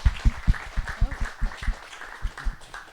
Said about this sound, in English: Let's have a very big applause for our panelists then.